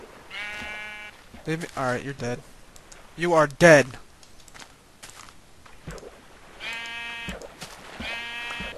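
Minecraft sheep give several short, harmonic bleats, some clustered and some spaced apart, between bursts of someone talking close up.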